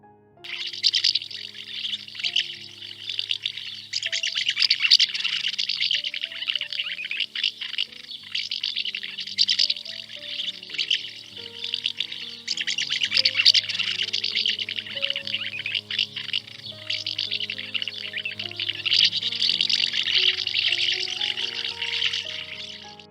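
Recorded swallow calls play during a kindergarten nature lesson, a continuous stream of fast, bright twittering and chirps lasting over twenty seconds with no talking.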